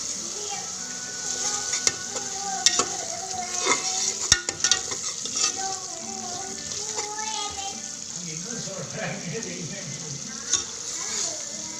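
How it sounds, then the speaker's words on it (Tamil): Onion, garlic, ginger and fennel paste sizzles in hot oil for a green peas biryani, with a steady frying hiss, scattered stirring clicks and scrapes, and a voice speaking now and then over it. "இப்போ இந்த அரைச்சிருக்கிற வெங்காயம், பூண்டு, இஞ்சி, சோம்பு இந்த பேஸ்ட் அதில் ஊற்றி இதையும் நல்லா வதக்கிக்கலாங்க"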